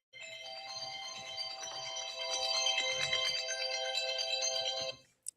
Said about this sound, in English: Give me a second while I pick up the phone.